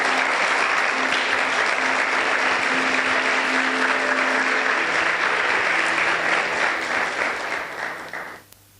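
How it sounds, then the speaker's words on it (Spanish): A church congregation applauds in a sustained, dense wave of clapping that fills the room for several seconds before tapering off and stopping abruptly. "Dale un aplauso al Señor, por favor."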